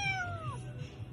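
A cat gives a single clear, falling meow, close and moderately quiet over a low background hum.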